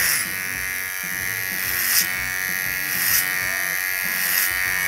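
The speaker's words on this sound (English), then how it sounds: "So I'm going to start working from the nape at a 45-degree angle with my clipper over comb" Electric hair clipper working clipper over comb up from the nape during a pompadour fade haircut, a continuous close buzz with periodic brief swells as strokes pass through the hair.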